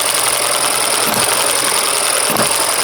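Small engine idling at a slowed, uneven pace after a governor spring was removed, a loud close steady chug with faint periodic knocks and no talking.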